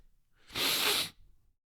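A single close sneeze, a short explosive burst of breathy noise lasting about half a second, with quiet before and after.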